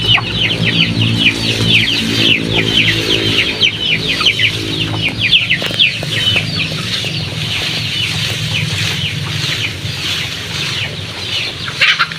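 A flock of ducks is fed berry plant leaves, filling the scene with loud, continuous, close-up chattering and clucking from many birds at once, with occasional wing flutters.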